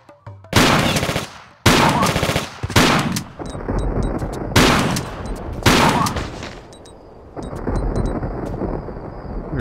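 Pistol gunfire in the video game Tomb Raider 4: The Last Revelation, a series of about six loud, sharp shots spaced irregularly, each with a brief ringing tail, followed by faint high metallic pings.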